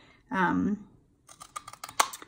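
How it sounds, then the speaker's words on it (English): A triple banner punch works through paper in a series of quick, close crunching clicks and snips, just after a brief spoken phrase. "I am using my triple banner punch."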